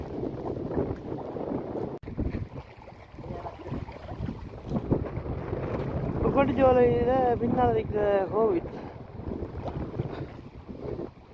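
Wind gusts around a flooded temple beside a large banyan tree, a steady broadband rush and microphone buffeting running throughout beneath a man's speech.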